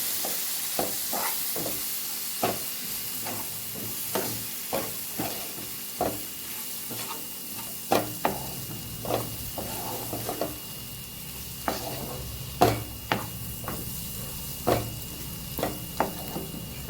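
Repeated spoon scrapes and taps stir a flour and spice mixture in a pan at a loose, steady rhythm over a soft background sizzle, with no talking.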